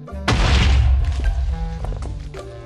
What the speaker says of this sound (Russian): У меня же еще осталось пару взрывчаток в инвентаре, которые сейчас мне хорошо послужат.